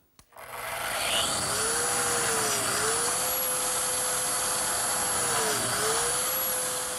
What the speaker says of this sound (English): I think the simplest way to join these panels together will be with biscuits. So first, I have to cut the slots.